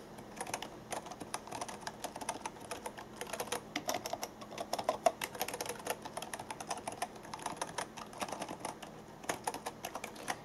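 Tesoro Lobera Plunger keyboard with plunger-style switches being typed on, a steady run of quick, light clacking keystrokes, fairly close and fairly quiet, with no talking.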